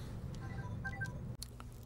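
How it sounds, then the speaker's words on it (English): Faint telephone tones sound in a quiet workshop setting during turntable servicing, a couple of soft beeps followed by a short click, with low background hum. "And the phone's going to ring."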